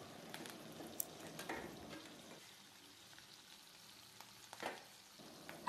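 A paste of onion, garlic and dried chilli sautés in a pan for a fish-head tita curry, a faint, soft sizzle with occasional light clicks and scrapes of stirring.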